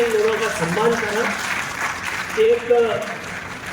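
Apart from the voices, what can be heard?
audience applause for honoured guests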